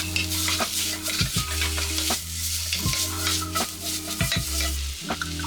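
Scraps of chicken are stir-fried over low heat in a pot for poulet au vinaigre, with a steady soft sizzle broken by repeated rhythmic scraping and knocking strokes of a utensil against the pot.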